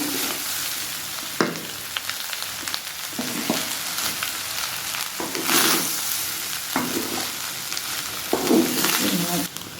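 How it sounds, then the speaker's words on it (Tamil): Egg fried rice gently stirred in a hot pan, a steady sizzle with repeated scraping stirs at irregular intervals, close up; no talk. "அரிசி உடஞ்சிடும், அதனால் பக்குவமாக நம்ம கிளறி விடணும்"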